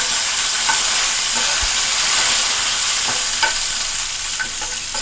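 Curry leaves and dried red chillies fry in a pan for a tomato-coriander chutney, giving a steady close sizzle with faint crackles and stirring scrapes throughout, no voices.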